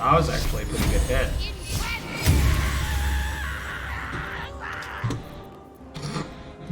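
A Baldur's Gate 3 character screams while burning alive in sunlight, a loud, drawn-out anguished cry amid game impacts and background noise, with a person talking over it.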